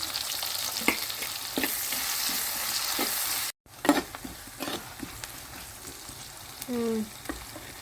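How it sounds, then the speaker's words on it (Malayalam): Shallots frying with ginger and garlic in a pan give a steady, close sizzle with occasional stirring scrapes. One brief cut in the middle is followed by softer frying and clinks. "നമ്മൾ ഇഞ്ചി വെളുത്തുള്ളി വഴറ്റിയെടുത്ത് ഇതിലേക്ക് നീരുള്ളി ചേർക്കും"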